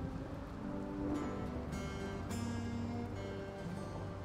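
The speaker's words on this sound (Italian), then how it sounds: "Sta piovendo." Rain falls steadily in the colony-building video game RimWorld, a soft, even patter that stays faint and unbroken, with no voices over it.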